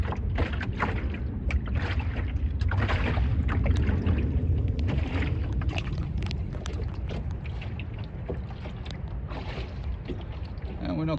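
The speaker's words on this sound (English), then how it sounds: "Let's switch the motor off and give sailing a go. And we're sailing" A small sailboat moves under sail with its motor switched off, water lapping and splashing against the hull amid gusting wind noise, steady and close.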